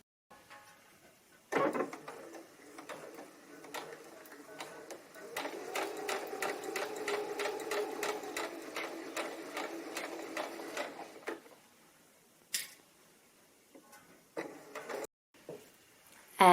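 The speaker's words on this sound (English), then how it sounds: "my next job now is to sew these together with a 1/4 of an inch seam" A sewing machine stitches quilt pieces together with a quarter-inch seam for a broken circles quilted cushion cover. The needle runs in a steady, rapid rhythm for several seconds, then stops, followed by a few soft handling clicks.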